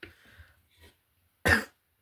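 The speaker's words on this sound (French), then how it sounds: "Je tousse, je tousse." A single sharp cough rings out close by after a moment of quiet, preceded by faint murmuring.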